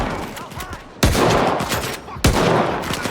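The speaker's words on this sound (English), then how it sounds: "I'm going to try the shotgun here to see how well this works" Shotgun blasts in the video game Stalker 2, two loud booming shots about a second apart, each followed by a rumbling echo tail amid background combat noise.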